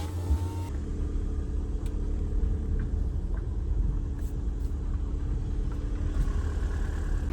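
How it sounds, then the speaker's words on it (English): A 2014 VW Passat TDI runs with a steady low engine rumble and a faint rattle from the flywheel, heard close and continuous with no talking. "Hear that flywheel making some noise."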